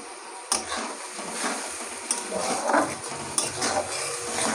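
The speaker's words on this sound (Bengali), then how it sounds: "এবারে মশলাটা ভালো করে কষিয়ে নেব" Spice paste with salt and ground ginger fries in a pan while a utensil stirs it. A steady sizzle runs beneath periodic scrapes and clinks of the spoon against metal, close and moderately loud.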